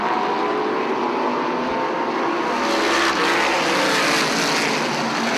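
Dirt modified race cars at Airborne Speedway in Plattsburgh, New York, one continuous loud engine roar swelling as the pack runs down the back straightaway, no talk heard.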